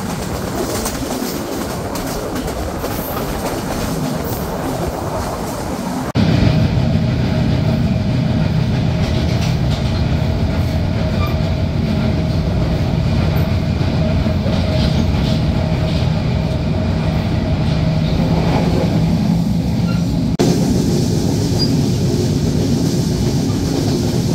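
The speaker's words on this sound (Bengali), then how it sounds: "ট্রেনটি প্রবেশ করলো মির্জাপুর রেলওয়ে স্টেশনে।" The Silk City Express passenger train rumbles steadily along the rails from Dhaka to Rajshahi, a loud continuous roar that shifts in tone partway through as it enters Mirzapur station, with faint birds in the background.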